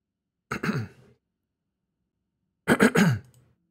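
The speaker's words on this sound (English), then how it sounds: "Sorry, I have to clear my throat." Two separate bursts of throat clearing, close and distinct, with a brief silent gap between them.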